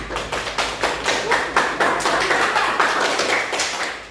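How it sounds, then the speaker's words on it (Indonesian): Classroom students clap on a teacher's cue during a lesson, a brisk rhythmic burst of many hands close by, steady for about four seconds with no talk. "tepuk tangan"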